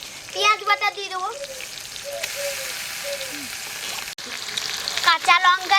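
Onion paste fries in hot oil for a Bengali doi fish curry, giving a dense, crackling sizzle throughout while voices murmur faintly in the background.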